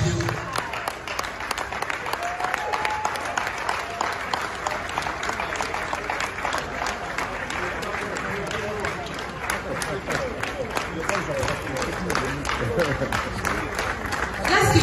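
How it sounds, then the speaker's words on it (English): Sustained audience applause at the 2021 AFRIFF film awards ceremony as a lifetime achievement award is presented, dense steady clapping filling the hall throughout with voices murmuring beneath it. "Let's give that applause, Louis."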